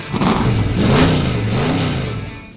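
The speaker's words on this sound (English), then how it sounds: "Rev your engines." A car engine revs hard and steadily for a few seconds, loud and close, with the pitch rising and falling as it revs.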